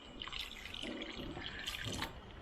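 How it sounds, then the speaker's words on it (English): Water is poured into a pan of chicken dhaba masala, giving faint splashing, dribbling and bubbling liquid sounds with a couple of brief louder pours, quiet and close, with no talk. "Keep adding water,"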